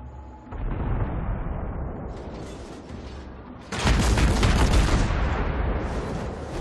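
Heavy naval gunfire in World of Warships, the ARP Kongo battleship firing: a dense rumbling barrage of booms and blasts that swells sharply louder partway through and stays loud to the end.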